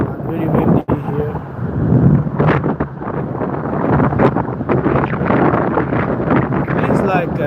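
Strong, cold wind at Frankfurt Airport, a loud, unbroken rumble battering the microphone throughout, with a person speaking faintly beneath it.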